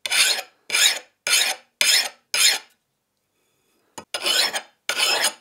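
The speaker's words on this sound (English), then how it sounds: "It's a file. It's cleaning the decarb off the surface," A hand file rasps across the surface of a steel knife made from a wrench, taking off decarb in about eight even strokes with a short pause midway, close and loud.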